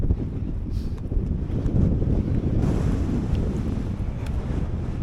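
Strong wind buffets a microphone on an exposed hilltop in the Lake District fells at Easter, a steady loud roar with gusty rumble throughout and no talking.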